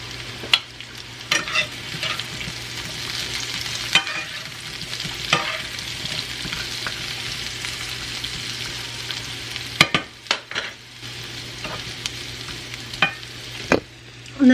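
Thinly sliced onion fries in a pan for a 1950s-style dinner, a continuous close sizzle broken by repeated clacks and scrapes from stirring and a few louder knocks against the pan.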